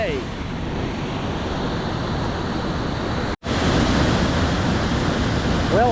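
Heavy, steady roar of a four-tier waterfall at Indian Flats Falls carrying a large volume of rushing water, loud and continuous close by, with a brief drop-out partway through before the rush resumes.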